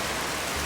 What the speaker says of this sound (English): it is absolutely pouring right now